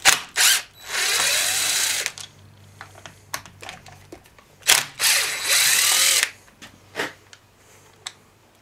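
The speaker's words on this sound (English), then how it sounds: "I'm going to pop these screws out of the cover here." A power drill driver pulls screws from the cover of an Echo CS-330T chainsaw, close and loud, in four whirring bursts separated by short pauses and light clicks of handling.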